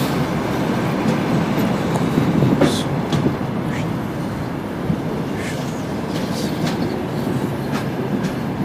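A passenger train, number 141 from Mariupol, rolls into Odesa with a steady rumble, rhythmic wheel clatter and occasional high squeals from the wheels, continuous throughout.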